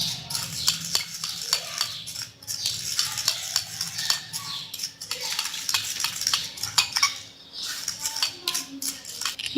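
A spoon mixes homemade bleach paste in a small bowl, producing repeated close scraping and clicking strokes in an uneven rhythm, with faint background hum.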